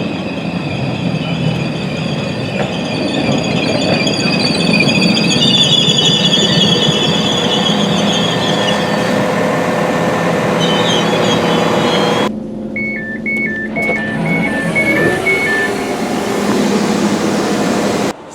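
A Transport for Wales Class 142 Pacer train heard close and loud, a continuous rumble with high metallic wheel squeal, then a sudden drop to a quieter hum with a repeating two-tone chime near the end.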